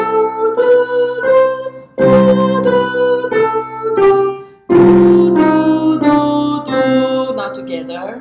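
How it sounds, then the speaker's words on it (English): A voice sings the melodic minor scale of European music theory in a vocal workshop: a clear run of sustained, rich notes stepping one after another with short breaks, close and fairly loud. "This minor scale is called melodic minor."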